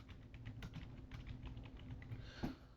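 Fingers tap quickly on a computer keyboard, a close, quiet run of light clicking keystrokes with small pauses, with no one talking.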